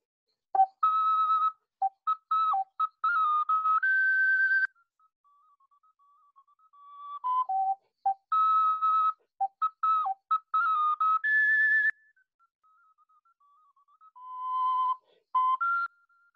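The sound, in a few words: antique hand-shaped Donati ocarina with nine holes being played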